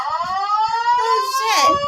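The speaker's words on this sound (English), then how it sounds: "I have the alarm going off in my building." Building fire alarm going off, a loud steady electronic tone with rising harmonics that blares continuously while someone talks over it.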